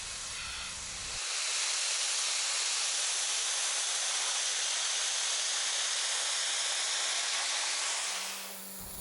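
A North Star electric pressure washer blasts bluestone steps clean, giving a loud, steady, close hiss of spraying water that starts abruptly and runs unbroken for several seconds before cutting off.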